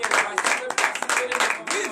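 A congregation at a Wednesday morning prayer service in Benin acclaims and claps. Bursts of loud shouting and hand-clapping rise and fall in quick waves, with voices mixed in close by.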